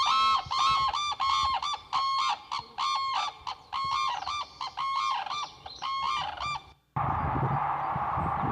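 Crane calls, a series of loud, close, trumpeting honks repeated in bursts at an irregular rhythm, ending abruptly before a stretch of quieter background noise.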